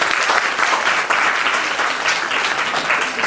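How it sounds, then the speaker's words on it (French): A school audience at an awareness campaign applauds loudly and steadily throughout, a dense wash of many hands clapping close by with no pauses. "Applaudissez pour lui."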